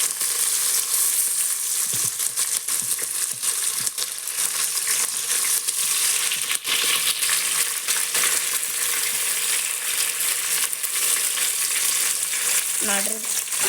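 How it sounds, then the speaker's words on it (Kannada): Onions and green chillies fry in a pan, giving a loud, steady sizzle that runs throughout, with occasional stirring scrapes and clinks close by. "ಚೆನ್ನಾಗಿ ಫ್ರೈ ಆಗಬೇಕು ನೋಡ್ರಿ"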